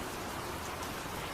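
Heavy rain in a cartoon, a faint, even hiss of falling drops that runs steadily throughout with no voices.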